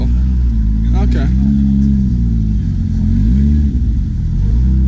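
A Porsche GT3 RS sports car pulls in, its engine loud and close with a steady rumble and a brief rise in revs, while people talk over it.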